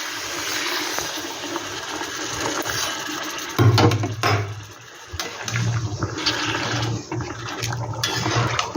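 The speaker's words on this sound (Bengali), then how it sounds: "এখানে আমি আগের দা জল গরম করে রেখেছি, সেই জলটা আমি দিয়ে দিচ্ছি" Previously heated water pours into a cooking pot while muri ghonto is being made, a steady rushing splash that swells partway through, close and fairly loud, with no talking.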